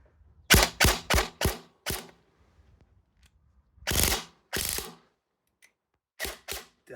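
A CYMA CM.106 AR-9 airsoft PDW fires during an outdoor shooting test: clustered sharp mechanical shots arrive in quick bursts of several, then a pause, then further shots and a final pair, fairly close and loud.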